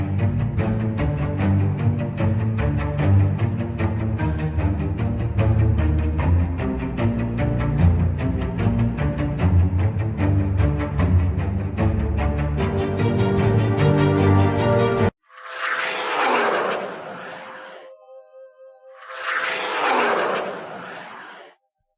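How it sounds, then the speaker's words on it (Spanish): Music plays for a while, then breaks off, and a military fighter jet roars past in two separate rushing swells that rise, peak loudly and fade away. "Este era el sonido de un caza."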